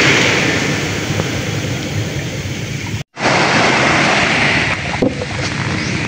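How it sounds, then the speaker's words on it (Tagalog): Waves washing onto a seashore in rainy weather, a loud, continuous broadband roar with a brief cut near the middle, then the rushing surf resumes, with no voices. "Nandito po ako ngayon sa tabing dagat"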